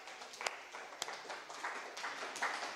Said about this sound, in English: let's clap again